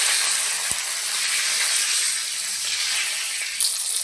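Green chillies and tomatoes sizzle in hot oil that was used for frying fish, giving a steady, loud hiss that carries on throughout with only slight changes.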